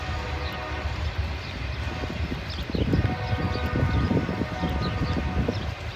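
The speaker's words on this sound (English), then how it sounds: "You can hear the trains constantly coming through this town." Low rumbling of a train rolling through a small town at moderate distance, a steady mechanical drone that swells slightly midway.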